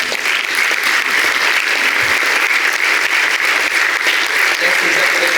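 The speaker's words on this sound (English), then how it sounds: "Just want to give you guys a round of applause." At an association's annual member meeting, an audience gives new staff a round of applause: dense, sustained clapping from a sizeable crowd filling the room evenly throughout.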